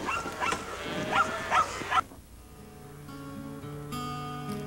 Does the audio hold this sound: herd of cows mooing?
yes